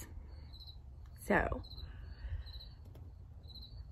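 A crickets-chirping sound effect gives quiet, evenly spaced high chirps over a soft low background, with a brief spoken word cutting in near the start.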